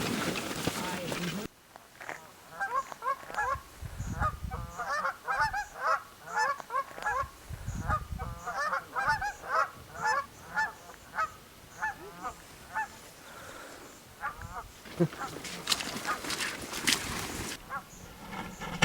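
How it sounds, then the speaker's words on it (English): Dusky Canada geese honk repeatedly from a holding pen during banding, a dense rhythmic chorus of overlapping calls that rises and falls, with bursts of noise and some human talk mixed in. "So once the geese are in the pot and they're kind of settling down and stuff"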